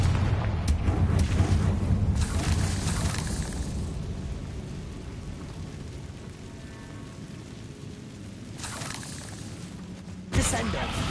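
Confringo fire spell exploding in Hogwarts Legacy, a loud rumbling blast that fades slowly over several seconds, followed by a sharp crack near the end.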